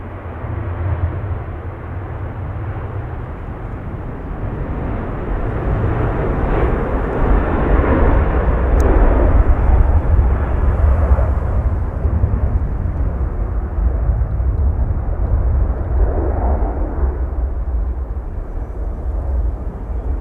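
A TUI airliner departing Manchester Airport for Tenerife, a steady, loud jet rumble with deep low-end roar that builds slightly and then holds, heard alone throughout.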